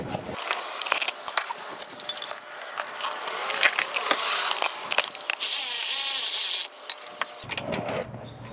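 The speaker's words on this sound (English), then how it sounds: "Unbolting the bottom bolt on the starter." Ratchet clicks and metallic clinks while a starter bolt is unbolted on a 2007 Nissan Versa, close and irregular, followed by a louder continuous burst of mechanical noise before it cuts off near the end.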